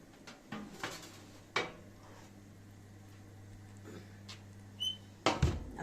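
A baked creamy dish being taken out of a home oven, with scattered clanks of cookware, a door knock and a low steady hum, ending in a louder close metallic clatter.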